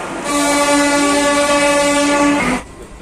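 A train horn sounds one long, loud, steady blast of about two seconds, then cuts off, leaving quieter station rumble at Howrah station.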